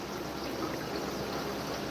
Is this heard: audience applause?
no